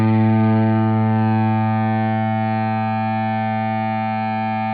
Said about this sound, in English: in the top position, we get a nice pure harmonic